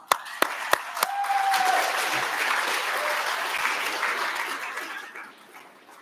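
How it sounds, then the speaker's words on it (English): Applause from an audience at the Social Enterprise Awards Scotland ceremony. A few sharp early claps swell into sustained, even clapping from a large crowd that slowly fades away. "And I think you all deserve a round of applause."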